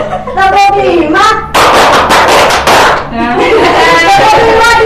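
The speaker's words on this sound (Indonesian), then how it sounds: "Tepuk 1, tepuk 2, tepuk 3, tepuk 4," A primary school class does counted rhythmic clapping during a microteaching lesson, with loud group claps bursting between close voices chanting the count.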